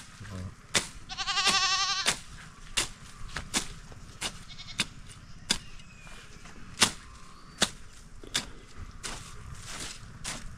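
Goats on a Vietnamese farm bleat in a loud, wavering call, followed by a steady run of sharp clicks and knocks and fainter movement.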